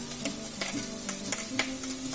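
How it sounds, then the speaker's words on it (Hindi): Tomato paste sizzles steadily in a pan of crab masala, with a spoon clinking against the pan in sharp, evenly spaced stirring taps over the constant hiss. "तो टमाटो पेस्ट मैं इसमें डाल रहा हूँ थोड़ा सा"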